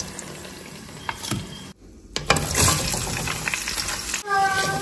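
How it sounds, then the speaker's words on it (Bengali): Mutton frying and being stirred in oil, a loud close sizzle with scraping stir noises, briefly cut to near silence, then resuming more intensely. "এবার এই সেম তেলেই মাটনটাকেও কষাবো।"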